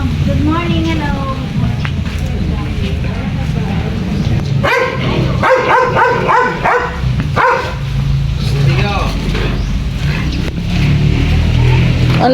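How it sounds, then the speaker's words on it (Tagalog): A big dog barks repeatedly in short bursts, close by, mixed with people talking over steady background noise. "Ang laki naman ng aso mo."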